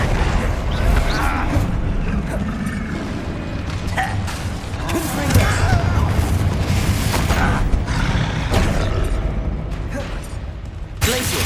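A Bombarda blasting spell in Hogwarts Legacy battle, heavy booming explosions and crashing impacts mixed with clattering debris, loud and dense across the whole stretch, with shouted voices under the din.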